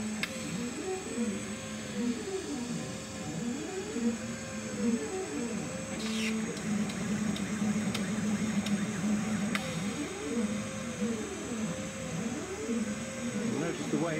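A laser cutter runs with air assist: the gantry motors whir in repeating rising and falling sweeps over a constant airy hiss, with faint clicks, at moderate volume.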